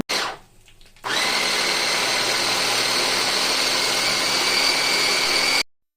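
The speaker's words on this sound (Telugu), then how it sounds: "ఇదైతే ఎలక్ట్రిక్ చాపర్" An electric chopper whirs loudly as it chops onions, starting after a brief pause and then holding a steady, high-pitched motor drone until it cuts off abruptly.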